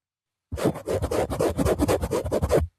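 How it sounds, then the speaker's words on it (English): Rapid scratching and rubbing directly on a microphone, a burst of close, rough strokes lasting about two seconds after silence. "This is the really high-tech scratch test, and I'm going to demonstrate."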